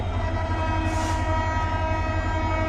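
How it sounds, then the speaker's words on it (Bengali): Diesel train idling and rumbling steadily at Joydebpur railway station, bound for Dhaka, with a loud horn blast rising briefly over the constant low engine drone. "আমাদের পিছন দিয়ে একটি ট্রেন রয়েছে যে ট্রেনটি ঢাকা চলে যাবে"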